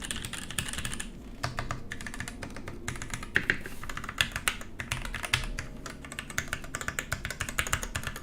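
Continuous rapid typing on a custom PC Singa mechanical keyboard fitted with Tangerine switches, with crisp, close keystrokes and occasional louder key hits over a muted background, and no speech.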